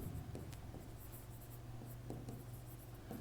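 Writing on a board during a Class 10 maths lecture on cylinder surface areas, with faint intermittent scratchy strokes over a steady background hum, no talk.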